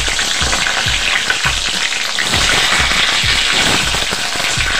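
Pointed gourds (potol) fry loudly in hot oil in a kadai, a dense, continuous crackling sizzle with occasional stirring scrapes, close and without pause.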